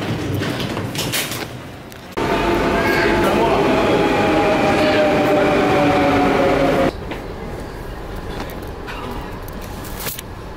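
Double-decker passenger train running with a steady rumble that swells louder for several seconds in the middle, heard from on board with some talking underneath.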